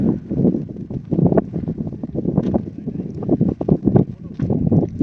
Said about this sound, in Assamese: পুৰা বতাহ